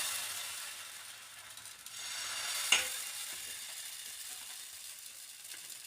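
Batter poured into a lightly oiled pan for a Makar Sankranti treat, giving a continuous, fairly quiet frying hiss, broken once by a single sharp knock of a utensil against the pan.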